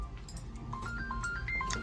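A phone rings for an incoming call with a short electronic melody of bright rising tones, heard faintly over steady background noise at a hobby RC track.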